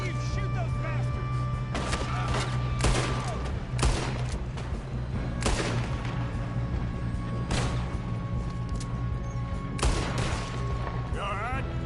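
Repeated sharp gunshots crack out in an old-west shootout in Red Dead Redemption 2, spaced irregularly over a steady background hum, with voices shouting between shots.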